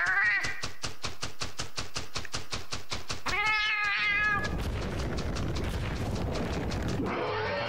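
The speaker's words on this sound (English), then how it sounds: "Yeah, little cats." Cats meowing in a Monster Hunter video game: a rapid run of short, evenly spaced clicks leads into a clear, bright meow, then a noisy burst of rumbling game sound, with another meow-like cry at the end.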